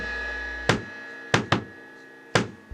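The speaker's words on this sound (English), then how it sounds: "On the G measure, hit the crash and do this heartbeat bass drum pattern" A heartbeat bass drum pattern with a crash cymbal on a drum kit: a few sharp, bright hits with short decays, including a quick double beat, over a faint steady background tone, with no speech.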